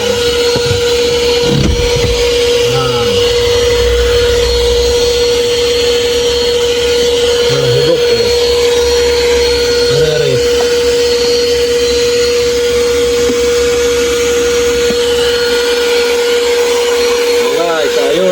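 A steady, loud vacuum motor whine runs throughout, with a constant tonal hum and shifting suction noise as a person talks over it.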